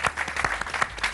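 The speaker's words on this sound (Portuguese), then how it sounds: "Ninguém uma salva de palmas para ele." An audience claps for a newly introduced talent on a Portuguese-language show, a brief burst of rapid, dense clapping lasting about a second.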